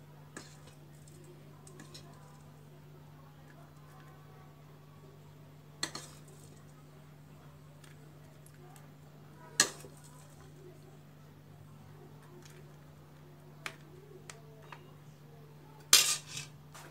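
A spoon taps and scrapes lightly against a dish while knafeh dessert is layered over strawberries, a handful of faint clinks scattered across a quiet, humming kitchen.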